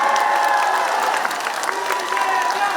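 A Busan street-rally crowd in Seomyeon applauds and cheers for presidential candidate Lee Jae-myung, a brief, loud, continuous burst of clapping mixed with shouts.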